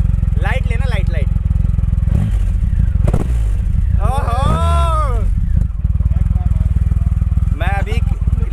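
A Triumph Rocket 3 motorcycle engine rumbles loudly nearby and revs in short bursts that rise and fall, while people talk over it.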